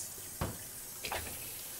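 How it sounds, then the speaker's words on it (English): A kitchen tap runs cold water into a cooking pot meant for potatoes, a faint, steady hiss with two brief louder splashes, nearby and without any speech. "So now what I'm doing is I'm just getting cold water to put my potatoes in there."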